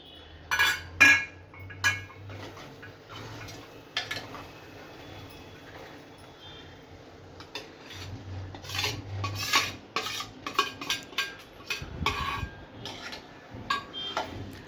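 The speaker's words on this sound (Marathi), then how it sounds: "हलक्या हाताने आपल्याला फिरवून घ्यायचं आहे." Paneer being gently stirred into gravy in a pan for dhaba-style paneer masala, a spoon scraping and clinking against the metal in irregular light taps, with soft pauses between strokes and no talking.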